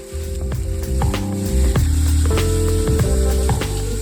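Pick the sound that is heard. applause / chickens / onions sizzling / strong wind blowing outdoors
onions sizzling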